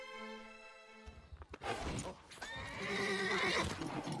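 A horse of an ancient, hardy breed gives a loud whinny and snorts close by, while hooves clip-clop and thud on the ground.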